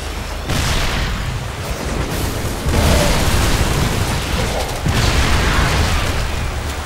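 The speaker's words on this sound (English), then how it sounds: "Broodlord coming in, destroying the siege tanks" Brood Lords destroying Terran siege tanks in StarCraft II, heard as loud continuous booming explosions and rumbling bursts that surge and recur throughout. No one talks.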